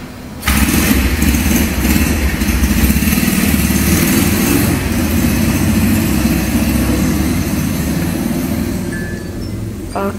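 A motorcycle engine starts up close, runs loud and steady, then begins to fade as the bike pulls away.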